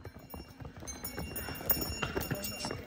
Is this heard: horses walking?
yes